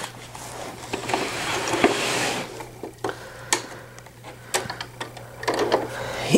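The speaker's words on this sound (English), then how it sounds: "And then I'm going to come over here to my serger." A serger sewing machine stitches bamboo and hemp fleece diaper inserts, running in bursts with rapid mechanical whirring and sharp clicks between pauses over a steady low background hum.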